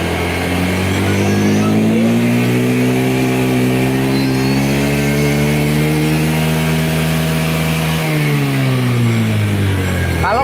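Carbureted Honda motorcycle engine revved with the throttle, a loud steady rising drone that holds its pitch for several seconds and then drops as the throttle eases near the end.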